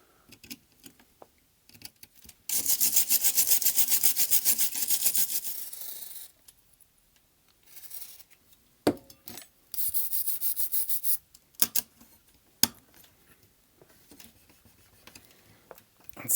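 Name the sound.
cleaning corrosion off a ZX Spectrum socket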